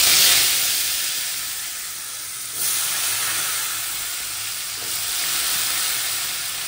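Potatoes frying in hot spiced oil for a quick paneer dish, a loud continuous close sizzle and hiss that swells briefly as more goes into the pan, with no talking.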